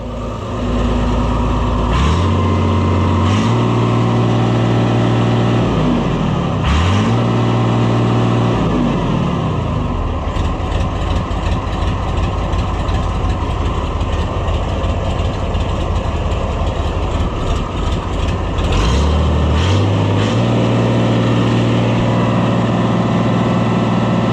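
An Oliver 1655 diesel tractor engine runs loudly and steadily while being driven, its low pitch rising and falling several times as the revs climb and drop, with no voices over it.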